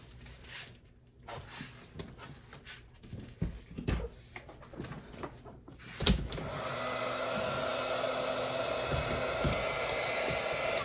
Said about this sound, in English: I just bumped my heat gun and turned it on